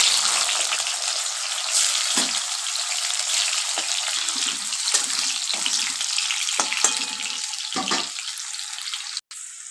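Carrots fry in hot oil with a steady, hissing sizzle close up, broken now and then by soft clinks and stirring knocks.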